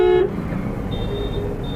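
A car horn honks in one short, loud blast at the very start, then fades into steady car engine and road noise during driving practice on a street.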